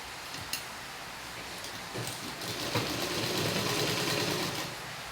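A sewing machine runs steadily, stitching the finishing hem of a V-shape blouse, a continuous mechanical whir with a faint ticking rhythm that grows slightly louder midway, close by and with no voices.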